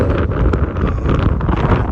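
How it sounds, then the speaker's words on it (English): Strong wind near Trinidad, Colorado buffets the microphone in a steady, loud roar of low rumbling noise, with gusts swelling and no voices. "Alright, it is very windy."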